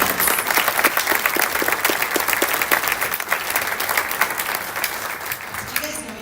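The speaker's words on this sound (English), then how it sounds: "let's give another round of applause for these recipients" Sustained audience applause at a high school awards ceremony honoring award recipients, a steady dense wash of many hands clapping throughout, fading slightly near the end.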